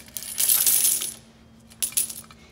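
Coins from a savings container spill out in two bright, jingling bursts of metallic clinking, the first longer and the second shorter after a brief pause, heard up close with no talking.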